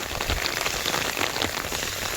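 Heavy monsoon rain pours down in a village, a dense, steady hiss of drops drumming on surfaces close by, continuous and loud with no voices.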